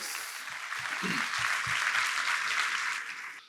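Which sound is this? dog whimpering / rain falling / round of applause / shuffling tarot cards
round of applause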